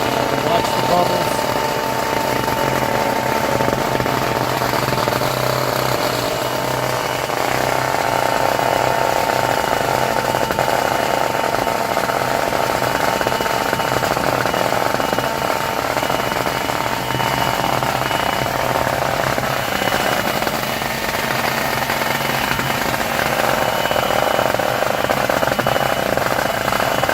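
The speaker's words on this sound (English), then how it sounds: "I'm using my palm sander underneath to vibrate this thing." Continuous buzzing hum of a palm sander pressed underneath a board to vibrate a freshly poured concrete countertop form, steady and fairly loud for the whole stretch, with no talking.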